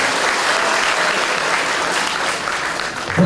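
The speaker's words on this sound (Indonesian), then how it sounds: "Tepuk tangan dulu" An audience at a religious motivational talk claps loudly and continuously, a thick, even roar of hands with no pauses, close and full.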